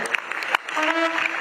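Audience applause at a university alumni trust fund launch, brief clapping from the crowd that blends into a speaker's amplified voice talking over it.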